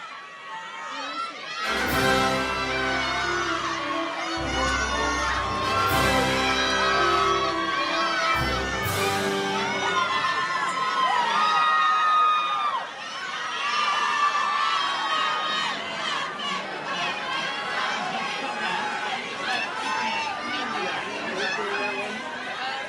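A large crowd cheers and chatters in anticipation, with whoops, shouts and excited voices, loud and close, the sound building after several fanfare-like blasts at the start.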